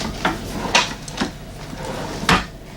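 Drawers sliding open and shut in a 2018 Holiday Rambler Navigator 38K motorhome, several separate clunks and thumps spaced about half a second apart, fairly close, with no talk over them.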